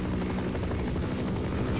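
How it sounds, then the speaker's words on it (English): Helicopter rotor and engine drone steadily throughout from a helicopter in the Sven Co-op They Hunger game, loud and continuous with no talk over it. "can you drive this helicopter?"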